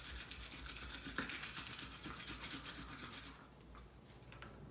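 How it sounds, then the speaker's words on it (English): Garlic rolled back and forth inside a silicone garlic roller to peel it, a steady close rubbing and rustling that runs for a few seconds, then eases off and fades. "silicone garlic rolls here where you just kind of roll it"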